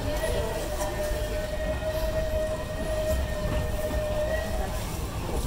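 The Disneyland Railroad steam train rumbles steadily along its track, a loud continuous roll with a sustained whistle-like tone running through it and faint talk underneath.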